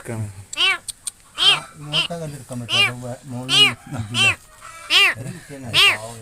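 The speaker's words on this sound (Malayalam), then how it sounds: "ലാസ് അബ്ദുറഹ്മാൻ എന്നിവരെ സ്ഥലത്ത് എത്തുകയും ആ മതിൽ പൊളിച്ച് അതിനുള്ളിലുള്ള പൂച്ചയെ രക്ഷപ്പെടുത്തുന്ന വീഡിയോസാണ് നിങ്ങളിപ്പോൾ കാണുന്നത്" Repeated loud, close meows from a cat trapped inside a wall for three days, in a steady series, roughly one every half second to second, some drawn out and plaintive, with no other voices.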